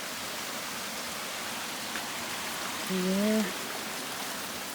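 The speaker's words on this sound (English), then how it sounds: "waterfall, water crossing." A small waterfall pours at a mountain trail water crossing by a little bridge, giving off a steady, even rush of water. A person speaks briefly over it partway through.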